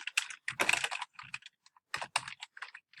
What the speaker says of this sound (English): Here you can type in your title.